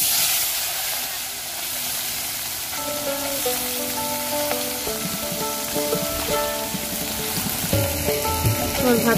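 Small mixed village fish frying in oil in a kadai give a steady, bright sizzle and hiss throughout, with background music and a faint voice beneath.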